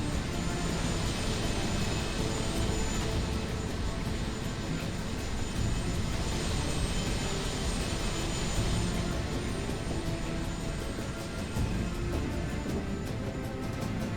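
A constant loud drone of an aircraft engine heard from inside the cabin before a jump in the video game Medal of Honor: Warfighter, a steady dense roar filling the whole stretch with no talk.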